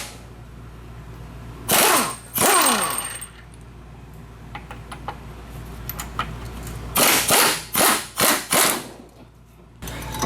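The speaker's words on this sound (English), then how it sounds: "now go ahead and remove the two 17mm bolts on the back" Bursts of a power tool, likely an impact wrench, remove 17mm bolts from the rear of a motor mount on a 1998–2002 Nissan Quest minivan. Two loud bursts come early and several more in quick succession later, with quieter metallic clinks in between.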